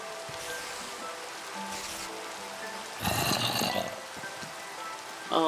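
Rain falling in the Minecraft video game makes a steady, soft hiss throughout, with a brief louder rush partway through and no speech.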